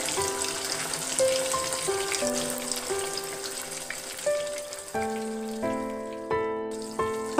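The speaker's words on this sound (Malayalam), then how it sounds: "നമുക്ക് ആ ഓയിലിൽ തന്നെ ഈ ചിക്കനൊന്ന് ജസ്റ്റ് ഒന്ന് ഫ്രൈ ചെയ്യാം." Chicken fries in oil in a pan with a soft, steady sizzle, joined by sharp tonal clinks and scraping as it is turned, the spatter rising in brief bursts near the end.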